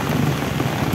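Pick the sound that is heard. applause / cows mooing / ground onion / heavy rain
heavy rain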